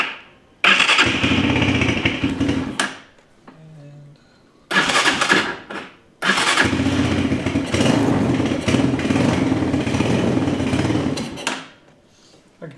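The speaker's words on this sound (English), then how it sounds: "Let's see if it cranks up" A cold TaoTao 250cc ATV with a new CDI cranks and catches, running loud and rough up close in two long bursts separated by a brief quiet gap, then cutting off near the end.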